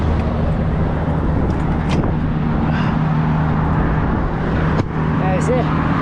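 Big trucks and traffic roar past on a Pennsylvania highway in a loud, continuous wash of road noise, with voices faintly under it.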